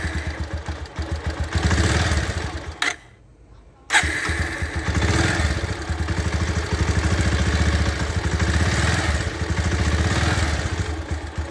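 A Bajaj Pulsar motorcycle engine runs, cuts out briefly, then fires up again and settles into a steady, throbbing idle close by.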